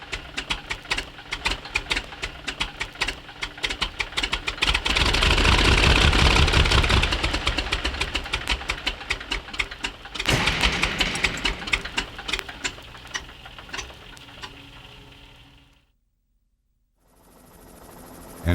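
A Buell bushplane engine, one of four built at Sault Ste. Marie, runs with sharp rapid popping firing beats that swell into a louder roar mid-way, cut out briefly near the end, then resume.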